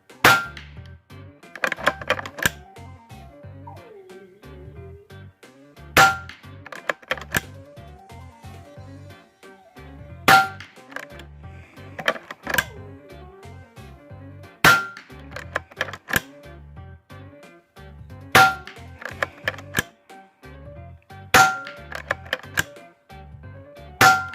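An Edgun Lelya and an FX Maverick .22 air rifle fire JSB and Hades pellets, giving a series of sharp cracks several seconds apart, each followed by metallic clicks of cocking and loading.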